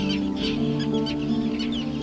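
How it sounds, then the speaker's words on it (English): Roseate and common terns call in a busy ground-nesting seabird colony, harsh overlapping squawks and chatter layered over a constant dense wash of bird voices, loud and close throughout. "They are really aggressive, particularly the common terns."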